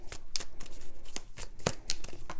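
Tarot cards shuffled for a love reading, a close run of rapid riffling snaps and soft slaps in an uneven rhythm, with no talking.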